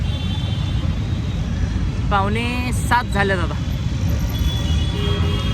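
Road traffic rumbles steadily while a vehicle waits at a signal in heavy traffic near a bridge, a dense low drone under a voice speaking briefly in the middle.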